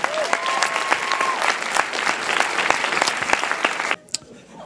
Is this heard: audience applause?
yes